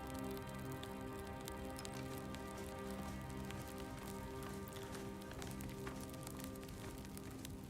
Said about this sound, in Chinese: 又在下雨